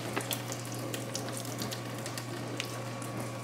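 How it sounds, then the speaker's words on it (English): Hot oil and fat pouring off browned ground beef with peppers and seasonings as the pan is tipped to drain, a steady quiet trickling hiss with faint clinks, no talking. "Now I'm gonna drain this a little bit to get this oil off of this."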